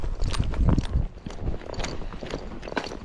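A Tennessee Walking Horse's hooves clop up a steep slope, with firm footfalls strongest at first and then a softer steady tread, and no talking.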